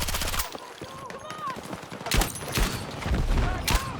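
MP7 submachine gun fire in Battlefield 6, rapid bursts of close gunshots in quick clusters with sharp impacts and game effects, loud against a busy background.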